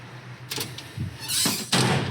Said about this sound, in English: All of the doors pull out super nice and pretty darn easy.